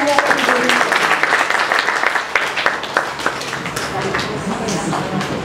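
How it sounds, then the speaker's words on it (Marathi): Audience applause after a children's drama performance: dense, steady clapping from a crowd filling the whole stretch, fairly loud and close, with a few sharper individual claps standing out. "एकदा जोरदार टाळ्या झाल्या"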